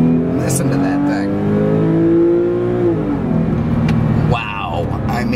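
A 2006 Porsche 911 Carrera S Cabriolet engine pulls steadily up through the revs, the pitch rising and then easing off, loud and near, with someone speaking over it.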